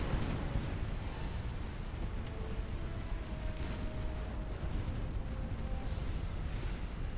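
Naval ship guns fire in the Ultimate Admiral: Dreadnoughts game, heard as a continuous low rumble of distant booms.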